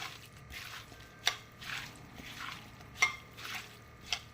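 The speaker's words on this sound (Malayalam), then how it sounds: "ഇതും കൂടി നല്ലോണം നമുക്കൊന്ന് മിക്സ് ചെയ്യാം" Chopped mango for a homestyle Angamaly mango curry is mixed by hand in a pot, with quiet rhythmic stirring swishes and a few sharp utensil clinks against the vessel, close and faint.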